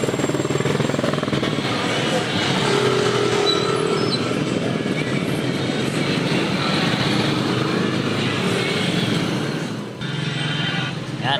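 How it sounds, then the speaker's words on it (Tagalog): Steady road traffic noise with a broad, continuous rumble of passing vehicles on the way home, a dense wash of engines and tyres that stays loud throughout, with a brief dip near the end. "Yan, simula na ng traffic."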